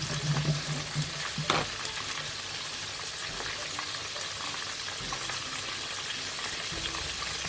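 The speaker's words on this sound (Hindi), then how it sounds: "इसको फ्राई करते जाएंगे।" Chicken strips frying in oil at medium heat give a steady, close sizzle and crackle, with a brief stirring clatter early on and no talk.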